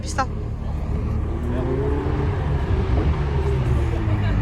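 A Ferrari 488 Pista passes on a street near Paris, a broad, steady road roar with a slight rising swell, while faint voices sit low in the background.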